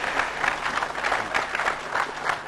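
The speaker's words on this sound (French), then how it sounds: "j'espérais que vous applaudirez pour ceux qui ont accepté" Audience applause fills a formal hall at a national communication and media conference in the DRC, a dense steady wash of many hands clapping together without pause.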